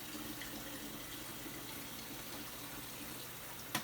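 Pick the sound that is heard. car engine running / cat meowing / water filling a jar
water filling a jar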